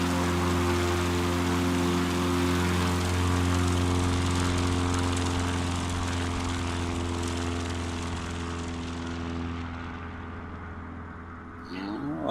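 A small STOL bush plane at a short-takeoff competition, its engine roaring loud and steady with a strong propeller drone, then easing off and fading slightly toward the end as it climbs away.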